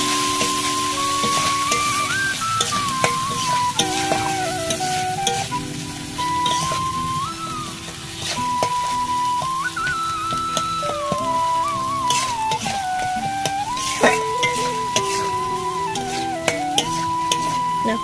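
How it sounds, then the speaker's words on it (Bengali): Masala seasoned with salt and chili powder sizzles in a pan as it is stirred, giving a continuous frying hiss with light clinks and scrapes and a wavering tone running underneath. "এবার এটাকে ভালো করে নাড়িয়ে নেব"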